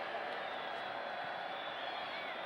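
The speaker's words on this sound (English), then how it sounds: "The crowd is just in a frenzy." Stadium crowd at a college football game between Oklahoma and Texas Tech roaring steadily in a frenzy, a continuous dense wash of cheering with no breaks, heard from within the stands.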